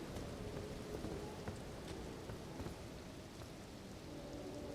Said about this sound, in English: I like that it's always raining here.